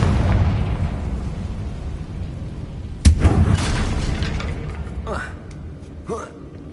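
A Confringo spell explosion in the Hogwarts Legacy video game, one sharp, loud blast midway, set against a steady rumbling game soundscape with a voice and later whooshing spell effects.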